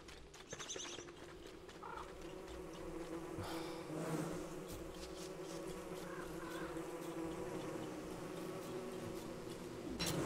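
Bees buzzing in Don't Starve: Reign of Giants, a dense, steady swarm-like drone filling the whole stretch, with a few short game effects over it.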